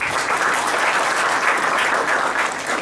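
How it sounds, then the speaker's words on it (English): Audience applause for a presenter at an entrepreneurs forum, a dense, steady clatter of many hands clapping close by with no talk over it. "I think we give a hand clap to Matt"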